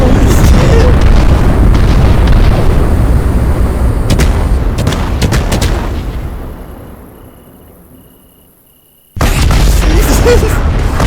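Firework blasts in the video game Fireworks Mania, loud booming bursts with crackling pops that trail off into near silence, then another loud burst returns at the end.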